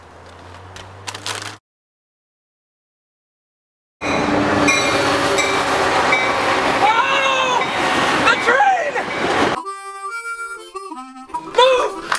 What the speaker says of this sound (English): Where is the train?